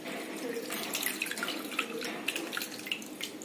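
Water splashes and trickles as dried shrimp (jawla) are rinsed over a mesh strainer, with close, continuous running-water sounds and small irregular drips and spatters throughout.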